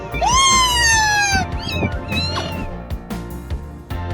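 Kittens in a parrot's nest meow loudly and close, a long rising-then-falling cry followed by several shorter, higher mews, with faint clicks and rustling between the calls.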